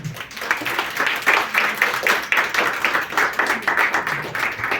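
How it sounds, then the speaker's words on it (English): An audience at a creative-sector support programme launch in Kenya claps in a rhythmic, pulsing round, loud and close, with a brief voice at the start. "let's give her a round of applause"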